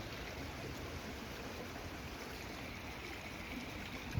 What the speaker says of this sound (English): the water is really running this time